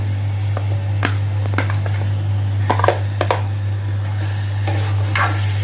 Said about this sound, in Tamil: இப்போ ரா ஸ்மெல் போயிட்ட பிறகு நம்ம இந்த சிக்கனை இதில் ஆட் பண்ணிக்கலாம்